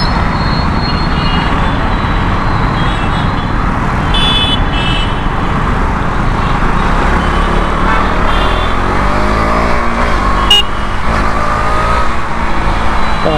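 2021 KTM Duke 200 BS6 motorcycle being ridden, its engine droning loud and steady with road and wind noise throughout, with no voices.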